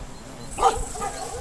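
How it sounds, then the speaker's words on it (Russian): Outdoors in an abandoned village, a dog gives a single sharp bark with a brief yelp, moderately close, against quiet background hiss. "собаки на меня встречают"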